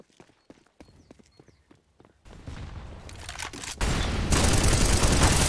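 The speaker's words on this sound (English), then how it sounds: "Shots coming through." Counter-Strike gunfire on the Inferno map during a competitive match: sparse sharp shots and footsteps at first, then a swelling barrage of rapid fire and a loud blast filling the end, close and dense.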